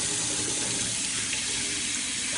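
Water runs from a kitchen tap while making pizza crust from scratch, a steady hissing stream that stays even and fairly quiet throughout, with no talking.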